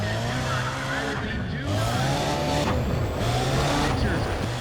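A race car in the video game Need for Speed ProStreet accelerates hard, its engine rising and dropping through rapid gear shifts with tire squeal, loud and continuous while a voice talks over it.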